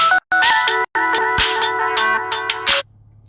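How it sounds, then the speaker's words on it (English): A phone ringtone for an incoming call plays loud and close as a bright melodic tune of repeated tonal notes, with brief gaps, stopping abruptly after under three seconds and leaving near silence. "Look at this phone call."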